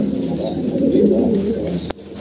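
Pigeons coo in low, rolling murmurs close by, ending with a short sharp knock.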